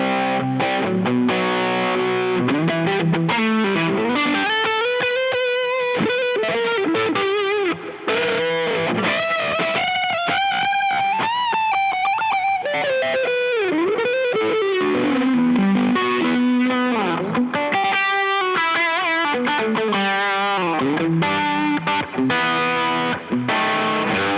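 An electric guitar plays through an Anarchy Audio Gain of Tones overdrive pedal set to its internal distortion mode, heavy overdriven distortion, loud and saturated, with bending lead lines and sustained notes, no talking.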